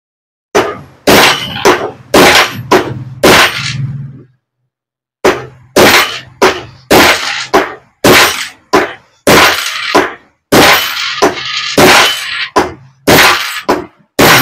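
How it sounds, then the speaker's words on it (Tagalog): Repeated loud clanks and rattles from a table crowded with many items while a stand fan is being worked on, coming in rapid clusters of sharp hits with a brief pause midway, and no talking. "Medyo maingay lang yung lamesa natin dahil maraming laman yung ating lamesa."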